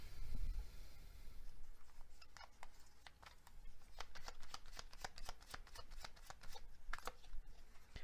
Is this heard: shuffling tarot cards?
yes